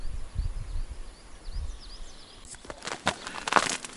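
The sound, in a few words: spring birds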